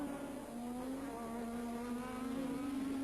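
Formula One cars racing for the lead at a Grand Prix, a steady high-pitched engine whine holding a sustained tone with slight pitch rise, heard from a distance, continuous and without speech.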